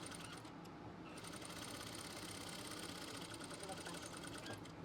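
A sewing machine stitches tilla anchoring embroidery on palazzo pants, a steady fast mechanical whir running continuously at moderate speed, close and even.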